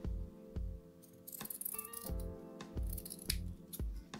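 Scissors snip through ribbon for a heart-shaped bow, a few crisp close cuts alongside rustling handling of the ribbon and material, no talking.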